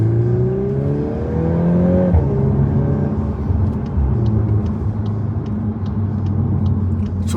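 A Volkswagen Golf R Mk8 engine pulls steadily under acceleration while driving, its rising note sweeping upward then settling into a continuous loud rumble with road and wind noise, no talking.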